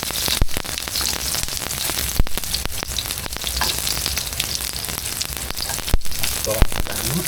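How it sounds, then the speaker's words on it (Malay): Garlic sizzling in hot oil in a pan while being stirred for a simple Thai-style homemade lunch, a steady close crackling fry broken by a few sharp scrapes and knocks of the spatula. "masukkan bawang putih, karial, dan buah. Kacau biar dia bawang masak."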